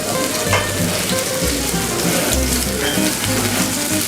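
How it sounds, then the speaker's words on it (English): A thick sirloin steak sears in a very hot pan with a loud, continuous crackling sizzle. Low hums and pops rise and fall beneath it, close up and with no talk. "I'm not going to touch it, I'm just going to let it make a really good crust."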